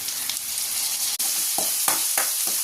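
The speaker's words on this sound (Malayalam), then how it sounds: "ഇനി നമുക്കതിലേക്ക് ഒരു തക്കാളിയും കൂടെ ഇട്ട് കൊടുക്കാം." Steady, loud sizzle of tomato frying in a pan with tapioca sabzi, a continuous hiss broken by several sharp stirring scrapes toward the end.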